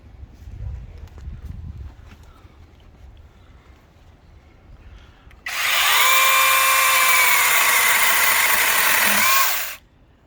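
Quiet rustling gives way to a battery-powered brushless mini chainsaw roaring to life, cutting a thick branch loudly and steadily for about four seconds before stopping abruptly.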